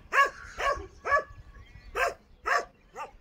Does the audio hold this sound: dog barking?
yes